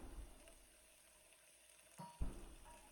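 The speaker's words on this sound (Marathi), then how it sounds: "आता इथं एका पॅनमध्ये तेल घालायचं आहे तेल थोडा गरम झालं की त्याच्यामध्ये आपल्याला ही कट केलेली शेवळं घालायची आहेत" Chopped shevla, a wild vegetable, frying in oil in a pan: a soft, steady sizzle close by, with a couple of louder clatters of stirring near the end and no talk.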